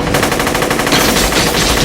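Rapid, dense automatic gunfire from a Matrix film, a loud continuous burst of machine-gun shots with no talking.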